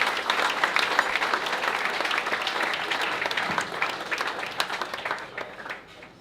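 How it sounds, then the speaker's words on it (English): Guests at a charity fundraising lunch applaud the organising team, a roomful of hands clapping steadily with a few sharper individual claps standing out, before the sound thins and tapers off toward the end. "So can I just have a round of applause for Beck Mulder, Laura Mackay and our team at Highland Property 80."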